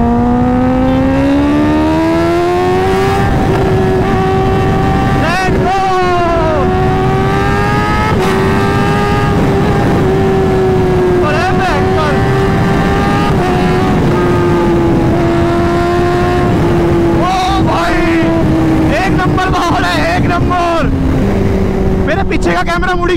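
Kawasaki ZX-10R sport bike engine screaming at full throttle in second gear on a city road, a loud, close, sustained high-revving wail that climbs steadily, with wind rush and a rider speaking over it.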